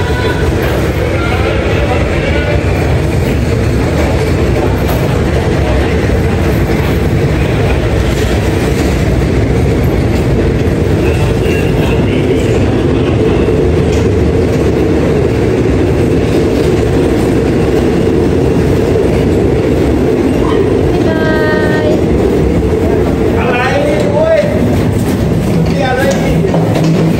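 A Thai train running from Nong Khai to Udon is heard from inside the carriage. A loud steady rumble and rattling clatter continue without a break, with some brief squealing of the wheels near the end.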